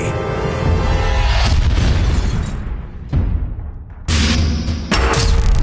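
Weapon test-fire blasts boom loudly in the animated Transformers: Cyber Missions, with heavy, roaring bursts that cut out abruptly and then slam back in with sharp new explosions.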